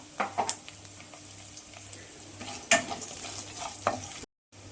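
Chana dal, urad dal and cumin seeds frying in hot oil, giving a steady soft sizzle with a few sharper stirring scrapes and pops, close and alone with no voices.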